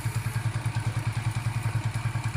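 A small Suzuki GN motorcycle engine idling nearby, its single-cylinder beat giving a steady, evenly spaced chugging pulse from start to finish.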